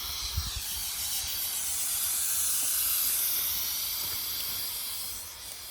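Foam volcano pushing out of a large bottle, a steady loud hiss like escaping steam that swells and holds, with a few low thumps near the start.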